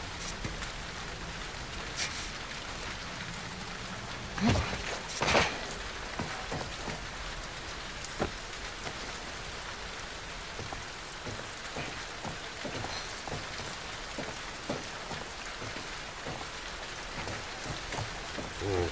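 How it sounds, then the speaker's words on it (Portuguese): Steady rainfall in The Last of Us Part II, pattering on surfaces, with a couple of louder knocks early on and scattered droplets hitting nearby. "E tá chovendo"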